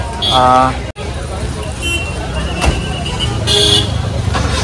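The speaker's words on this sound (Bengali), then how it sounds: "এই রাস্তাটা ক্রস করা একটু ডিফিকাল্ট, এত গাড়ি রয়েছে" Busy road traffic at a junction in Meghalaya, with a loud nearby car horn toot early on, engine rumble and passing vehicles throughout, a second horn later, and a voice talking over the noise.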